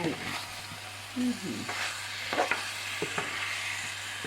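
Catfish with fennel-type leaves being stir-fried in a Thai home kitchen, a steady close sizzle with scraping spatula strokes and clinks throughout, some faint voice touches.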